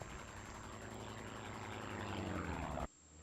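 A propeller aircraft roars past in a flyby in the WWII Online game, a loud steady engine drone that holds throughout and then cuts off abruptly near the end, with no voices.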